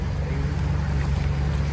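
A newly bought 2008 jeep's engine idles close by, a steady low rumble with a faint even pulse and no voices over it.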